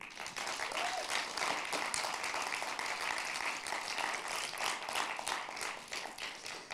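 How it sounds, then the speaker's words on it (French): Audience at a high school public speaking competition applauds steadily, a dense, even wash of clapping sustained throughout, moderately close. "on peut les applaudir bien, bien fort"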